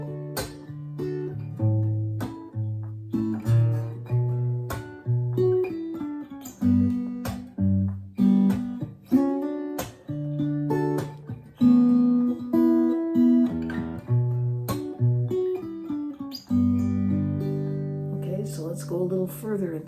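Acoustic Gibson guitar fingerpicking a simple D-based chord progression, plucked notes and chords flowing steadily for about twenty seconds, close and unaccompanied.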